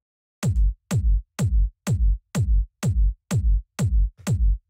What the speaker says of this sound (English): just the kick sounds like this.